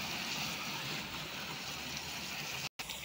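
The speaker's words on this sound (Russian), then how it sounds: "Ну, в общем, наша водичка наливается." Water pours in a steady, continuous rush, even and fairly loud, with a brief cut to silence near the end before the flow resumes.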